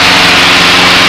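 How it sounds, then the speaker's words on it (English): Loud, steady drone of a powerful light airplane engine fitted with a climb prop, heard from inside the cabin during a private pilot flight lesson, continuous and close. "This airplane has a very powerful engine. It's got a climb prop."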